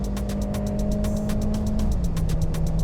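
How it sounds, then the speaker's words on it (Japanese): A car engine drones loud and steady on track at Fuji Speedway, on cheap Chinese sports tires, holding a strong even note that dips slightly in pitch near the end, with no talk. "いやー相変わらずでもあれだね、エンジンは元気いいね。"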